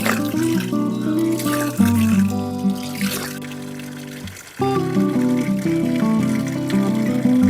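Cold drinking water runs and splashes steadily from a tap or spout outdoors by a roadside, loud and close, with a brief dip midway before the flow resumes.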